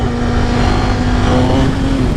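A motorcycle engine revs hard and holds high, steady revs as the rider attempts a wheelie with traction control left on, a loud, close, continuous roar with a sustained whining tone.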